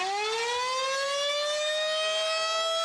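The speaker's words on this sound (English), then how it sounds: "the money going into the county's outdoor sirens" A loud outdoor tornado warning siren wails steadily, its tone slowly rising in pitch, sounding alone without any voices.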